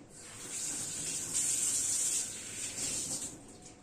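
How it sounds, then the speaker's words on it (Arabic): Hands washed under a running kitchen water tap, a close, steady splashing hiss of the stream that swells and dips as the hands move through it, with no voices. "اغسل ايدي"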